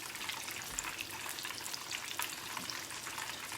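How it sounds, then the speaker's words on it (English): Menchi katsu, breaded meat cutlets, frying in oil with a steady, even sizzle and crackle that stays close and moderately quiet throughout, with no voices. "So when we're frying them"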